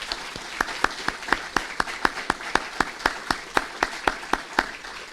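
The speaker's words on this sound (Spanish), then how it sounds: "me permito solicitarles por favor un fuerte aplauso para nuestro señor invitado" Rhythmic, evenly spaced clapping from an audience saluting an invited guest, Dr. Arístides Vara, at the presentation of a study on violence against women, with sharp regular claps at moderate distance and no speech.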